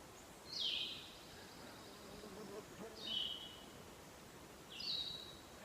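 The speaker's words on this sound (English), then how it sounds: "I hear birds." Three clear, high bird calls ring out at spaced intervals against a quiet outdoor hush in woods on the Appalachian Trail, each a brief descending whistle.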